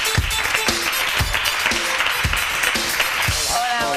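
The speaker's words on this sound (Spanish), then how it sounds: "para los que pido un fuerte aplauso, por favor" Studio audience applause for guests joining a television talk show panel, a steady round of clapping heard over background music with rhythmic low beats.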